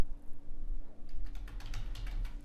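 Typing code on a computer keyboard while editing a Shopify section's background image settings: a steady, close patter of light keystrokes, growing busier and more clustered in the second half over a faint hum.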